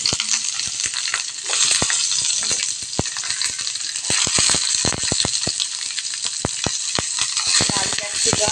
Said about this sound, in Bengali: কাঁচা লঙ্কা কুচি সব দিয়ে ফ্রাই করে নেব।